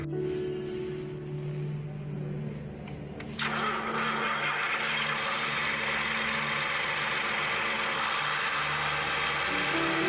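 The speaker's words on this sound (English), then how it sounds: "Turn the key switch all the way to the right to start the engine." John Deere tractor engine firing up after a moment of background noise, then running steadily at a constant loud drone with a steady low hum underneath.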